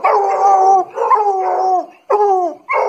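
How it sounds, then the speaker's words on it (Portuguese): A five-month-old American Foxhound puppy howling close by in a series of long, wavering, mournful howls with short breaks between them. "esse cachorro com 5 meses tá urrando assim"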